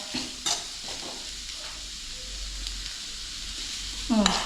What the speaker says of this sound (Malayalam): സവാള വഴറ്റിയപ്പോൾ ഞാൻ ഉപ്പ് ഇട്ടായിരുന്നു ഇതിൽ ഇളക്കിയിട്ടൊന്ന് നോക്കാം